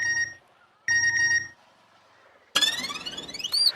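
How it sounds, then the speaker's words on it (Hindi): A phone rings unanswered in short repeated bursts with gaps between, followed by a louder electronic ringtone melody. "नहीं, उठाइए उठाइए सुंदर भैया, फोन उठाइए।"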